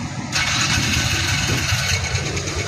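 A car engine cranks and catches after its starter relay is replaced, then runs at a steady, loud idle close by, with no voices over it.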